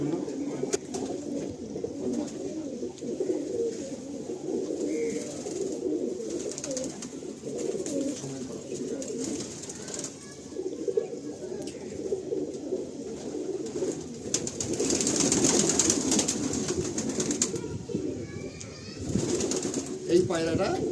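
Pigeons cooing inside a pigeon loft, their soft, repeated coos overlapping close by, with faint voices murmuring in the background and the cooing swelling louder toward the end.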